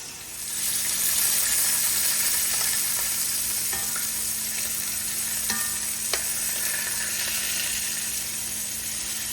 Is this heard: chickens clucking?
no